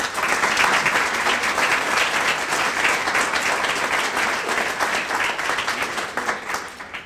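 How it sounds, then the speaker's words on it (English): Sustained, full applause from an audience welcoming a speaker to an evening lecture, many hands clapping steadily and loudly before tapering slightly at the end. "Thank you for the applause"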